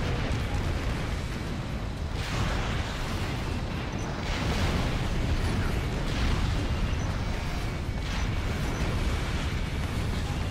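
Continuous heavy rumbling blasts from a destroyed vehicle exploding in the combat flight game Ace Combat Infinity, loud and dense, with repeated booming surges through the whole stretch.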